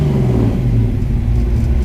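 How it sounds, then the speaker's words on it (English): A 1967 Mustang engine, being prepared for a track day, revs as the throttle is pressed, a loud close rumble that rises briefly and holds, with no talk. "Just hitting the throttle. It still has a tiny hesitation right at the bottom"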